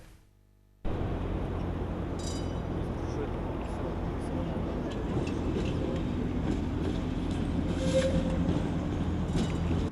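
Tram on Odesa route 18, the city's oldest line, near the Kulykove Pole stop, rolling on rails with a steady loud rumble and faint high rail squeal from start to end after a short quiet opening.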